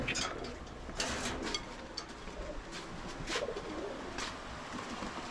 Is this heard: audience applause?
no